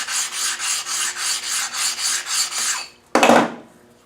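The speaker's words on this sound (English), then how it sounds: "we're going to get an oil stone and we're just going to take those down to make sure they're all flat" An oil stone rubs raised bolt areas flat on a Salisbury rear axle housing: about a dozen quick, even rasping strokes at close range, then a short louder scrape before it fades.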